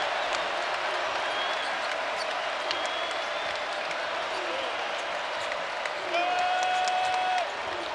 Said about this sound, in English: the crowd is starting to pick it up in Rupp Arena